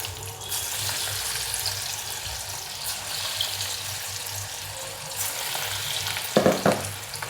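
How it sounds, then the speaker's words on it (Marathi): Moong dal pakoras deep-frying in hot oil, a continuous broad hiss and bubbling that runs throughout, with a brief clatter of stirring near the end, close and without speech. "आता तळून घेते तापत ठेवले तेल तापले"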